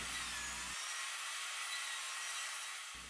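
A table saw blade tilted to about 15 degrees bevels the inside front edge of pine and red oak picture frame pieces, giving a steady, continuous high whine with the wood cutting through.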